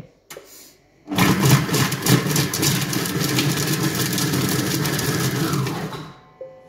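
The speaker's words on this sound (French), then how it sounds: "je vais mixer. Ça va trop vite. 5 secondes. Vitesse 5. Attention aux oreilles." A blender running at speed 5 whirs homemade tomato pizza sauce, starting abruptly after a short click and holding a loud, steady motor roar for about five seconds before stopping.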